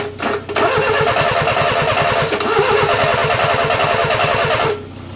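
A Renault 10 engine cranks, catches and runs at a rapid, loud, steady idle for several seconds before cutting off abruptly.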